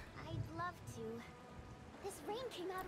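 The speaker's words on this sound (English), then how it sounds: "It was rain, yeah." Rain in the video game Tower of Fantasy, a faint steady patter beneath voices and in-game sounds for a few seconds.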